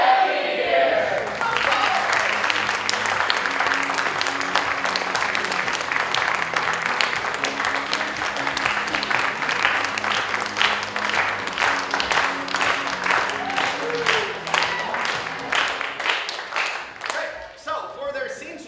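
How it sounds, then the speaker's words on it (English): An improv comedy show audience applauds and claps steadily for about sixteen seconds, dense and sustained, then trails off into scattered claps near the end. "give them a big round of applause"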